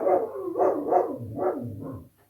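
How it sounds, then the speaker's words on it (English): Dogs bark in a short run of four or five loud, close barks, the last ones lower and huskier, then they stop. "My dogs are barking."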